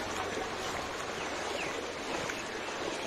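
Fast-flowing floodwater rushing along a flooded school road in Silchar, Assam: a continuous broadband roar and hiss of moving water, steady and fairly close, with no talk over it.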